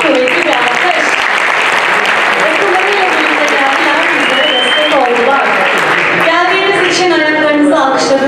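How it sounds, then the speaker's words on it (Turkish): An audience at a Turkish classical music choir concert claps loudly and continuously, a dense sustained applause while a voice speaks over it. "sizlere eşlik eden saz üstadlarımıza da şöyle kuvvetli bir alkış"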